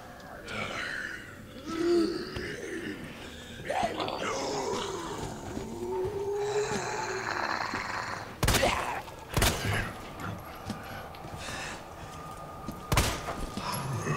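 Gunfire in the Resident Evil 2 Remake video game: a few sharp, loud shots spaced apart, mixed with in-game growls, creature noises and effects, and a voice in the background.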